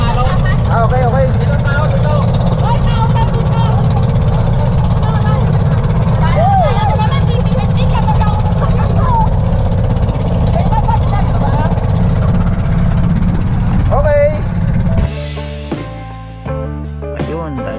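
A bangka motorboat engine drones loud and steady on a rough sea crossing to White Island, a low continuous rumble with people talking over it, before the sound changes near the end.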